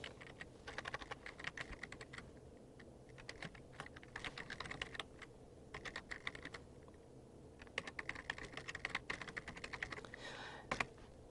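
An email address typed on a computer keyboard for Microsoft Outlook 2013, with rapid, close, crisp key clicks in uneven bursts and short pauses, steady throughout with no talking.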